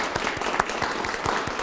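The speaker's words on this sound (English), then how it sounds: "we need to give ourselves a big round of applause for what we've done" Brief burst of audience applause at a press conference, dense continuous clapping from a room of people, close and fairly loud, with no talk over it.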